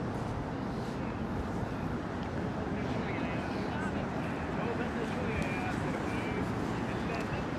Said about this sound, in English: it is windy as all heck up here